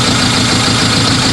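Suzuki Samurai engine idling at a steady, even rumble with a constant low vibration, close and loud, no voices over it.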